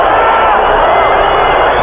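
Stadium crowd of Cruzeiro fans at a 1993 Brazilian championship match against Corinthians, booing player Roberto Gaúcho, a dense continuous roar filling the stands, with a commentator talking over it.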